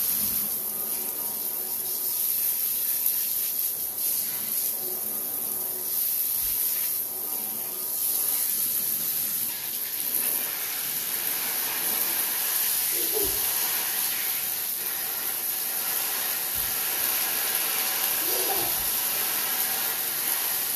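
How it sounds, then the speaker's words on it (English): A handheld water sprayer turned to high blasts a steady, continuous hiss across a silk screen while rinsing off chalk paste, running at an even level throughout with a few faint splashes and knocks underneath. "turn my sprayer high and just spray it"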